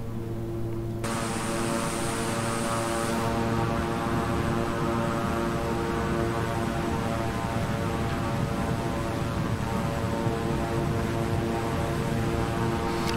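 A King Air 350i turboprop in Microsoft Flight Simulator drones loudly and steadily, its engine whine and propeller hum sustained throughout with a high tone dropping away early on.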